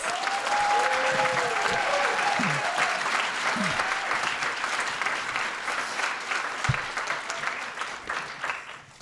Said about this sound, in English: Let's give all of the students that are participating a welcome rounding applause